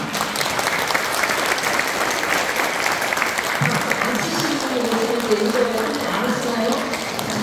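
Congregation at a Won Buddhist temple service applauding, sustained loud clapping throughout, with voices and some tonal murmuring rising under it partway through.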